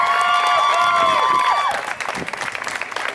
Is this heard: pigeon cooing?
no